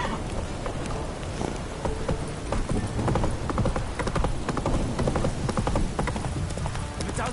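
Geralt's horse Roach gallops in The Witcher 3: Wild Hunt, a brisk, continuous clatter of hooves close up, with a faint whinny-like tone and no talk.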